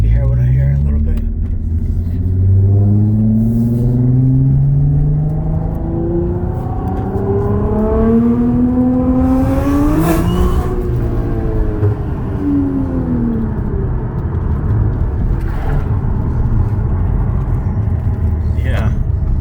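A 2013 Audi S4 with an APR dual pulley accelerating under partial throttle, heard from inside with the window down: a steady engine rumble and rising, falling supercharger whine, with talk over it.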